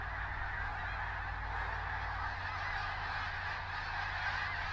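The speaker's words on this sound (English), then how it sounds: "The snow geese have just taken off." A large flock of snow geese honks continuously as they take off, a dense overlapping chorus heard from a distance at steady volume.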